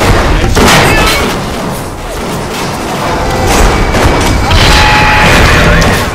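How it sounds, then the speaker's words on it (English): Gunfire and booming impacts from the video game Bioshock, a dense, loud, continuous barrage of blasts and crashes filling the whole stretch with no clear pauses. "Shot at from where I don't know."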